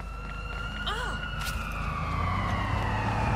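Police siren during a chase in the Watch Dogs 2 video game, a steady wailing tone with engine noise beneath, continuous and fairly loud, with someone talking over it.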